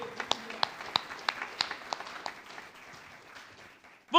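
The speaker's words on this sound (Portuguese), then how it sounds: "Uma salva de palmas ao Espírito Santo" Scattered, sparse clapping from a church congregation during a Portuguese sermon, a handful of distinct claps fading into quiet, then a brief louder burst at the end.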